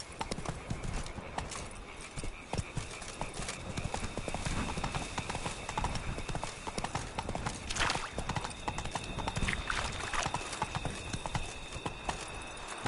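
Roach, Geralt's horse in The Witcher 3: Blood and Wine, galloping with fast, steady hoofbeat clip-clops over a continuous outdoor ambience, the rhythm unbroken for the whole stretch, with a brief whinny partway through.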